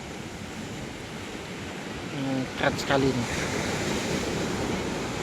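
Ocean waves roll in at Sundak Beach in Gunungkidul, Indonesia, a steady broad wash of surf that swells slightly midway while a person speaks briefly over it.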